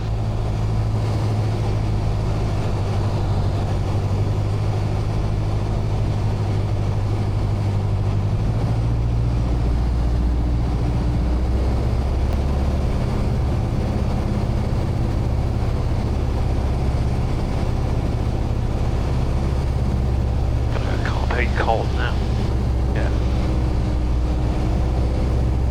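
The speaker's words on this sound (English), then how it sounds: "we'll get it on the ground, I'll reset the flaps for you, and then you go" Light aircraft, a quirky French-built plane, rolls through a touch and go landing: a steady loud engine drone with low rumble throughout, rising slightly near the end, no talk.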